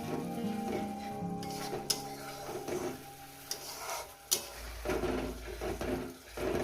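Spice paste frying in a pan for katla fish curry while being stirred, a quiet close sizzle with occasional scrapes and clicks of the spoon against the pan, no talk.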